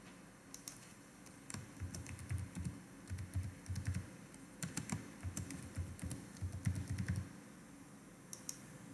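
Someone types a password on a computer keyboard in a quiet room, producing irregular bursts of soft, close key clicks with short pauses between keystrokes.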